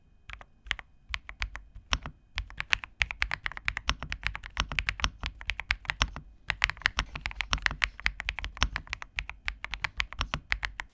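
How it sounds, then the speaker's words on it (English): Rapid typing on a Redragon EISA K686 PRO wireless mechanical keyboard, close up, with crisp clacky keystrokes in fast bursts and brief pauses between them. "I'm going to mic the keyboard up and show you how it sounds when I'm typing"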